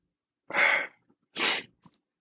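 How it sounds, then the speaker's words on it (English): Two sharp, breathy bursts close to the listener, a sneeze with its intake and release, followed by a faint catch of breath. "No, it was a sneeze."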